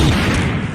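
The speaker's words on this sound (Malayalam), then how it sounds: "എന്തിനാ ആളുകൾ പടക്കം പൊട്ടിച്ചേ?" A firecracker bursts during a festival celebration, a loud, close, roaring blast that fills the short moment with broadband rumble before easing slightly.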